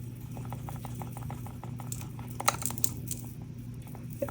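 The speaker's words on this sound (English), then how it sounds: "pour a bunch of glitter in" Glitter patters and trickles from a cup into a hollow plastic ornament, a soft continuous rustling with a few brighter ticks, close up over a low hum.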